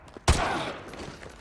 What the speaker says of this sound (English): Roach, take the shot! Go for his leg!